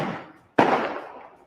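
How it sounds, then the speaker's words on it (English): A single sharp, loud firecracker bang with a long rumbling decay, set off outdoors at an election results celebration in Thane, Mumbai. "So these firecrackers will go."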